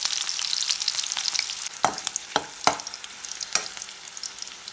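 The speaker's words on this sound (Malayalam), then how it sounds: "ഇനി ഈ എണ്ണയിലേക്ക് നമുക്ക് കീറിയെടുത്ത 4 പച്ചമുളക്, 2 ഉണക്കമുളക്, കുറച്ച് വേപ്പിലയും കൂടെ വറുത്ത് കോരിയെടുക്കാം" Slit green chillies, dried red chillies and curry leaves frying in hot oil in a pan: a dense, close crackling sizzle throughout, broken by a few sharp spatula scrapes near the middle, with no talk.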